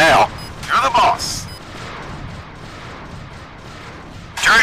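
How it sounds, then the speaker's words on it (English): Heavy turret fire in the 1997 space combat game Wing Commander: Prophecy, a dense continuous rumble of blasts and booms with bright laser-like bursts at the start and end, loud and sustained throughout. "Turret fire is pretty heavy here."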